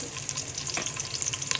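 Biryani masala of ground ginger, garlic and mint sautéing with cashews in a pan, a steady close sizzle with scraping stirs throughout, no voices.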